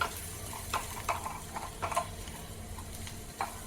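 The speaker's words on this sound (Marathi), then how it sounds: "काळी मिरी घेतले आणि दोन लवंग घेतलेले आहेत आणि एक चमचाभर धने घेतलेले आहेत ते आपण भाजून घेऊया" Black pepper, cloves and coriander seeds dry roasting in a pan, with soft scattered ticks and scrapes of spices shifting over a low steady hum, fairly faint and without talk.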